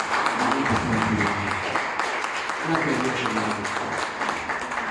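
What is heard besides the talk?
congregation applauding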